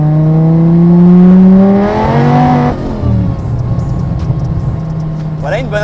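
Supercharged Dodge Viper SRT-10 with a manual gearbox pulling hard in second gear, a loud close engine roar climbing in pitch and then shifting down to a steady rumble, with a faint tire scrabble near the end.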